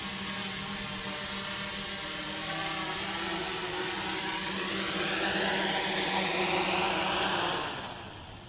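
A small quadcopter drone buzzes steadily close by as it flies in to land, its whining rotor pitch gradually rising, then the motors wind down at the end.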